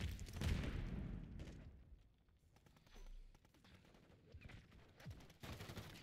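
Gunfire in Call of Duty Modern Warfare 3 multiplayer: quiet bursts of shots and booms come in clusters, strongest at the start and again near the end, with faint game ambience between.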